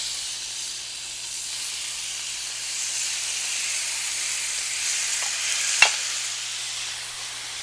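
Balsamic-marinated chicken thighs sizzle in olive oil on a Blackstone griddle, a steady close frying hiss with a brief sharp clack of a utensil near the end and no voices.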